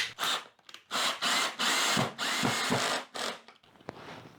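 A power drill drives screws into wood at a woodworking bench, its clutch set very low, whirring in several short loud bursts separated by pauses, ending with a sharp click.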